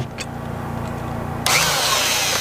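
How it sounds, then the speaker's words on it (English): A power drill bores a hole into a log for a log home build, starting with a steady motor whine and then turning into a louder, rougher grinding bite partway through, close and loud with no talking. "I'll drill out this hole here"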